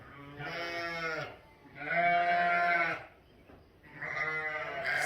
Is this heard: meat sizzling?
no